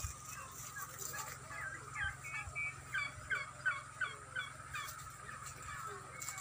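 A flock of turkeys gobbles in rapid bursts from a short distance, over a low steady hum of background noise.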